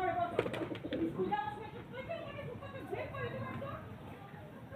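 A pair of pigeons, a male and a female, coo softly in a low, repeated rhythm close by, while a person talks over them throughout.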